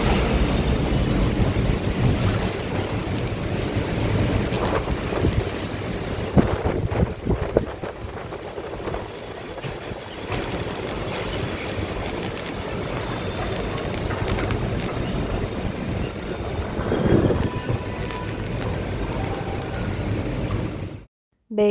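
Strong wind gusting outdoors with rain falling during a monsoon-style afternoon shower, a steady broadband roar with buffeting on the microphone that swells and eases over about twenty seconds, without talk.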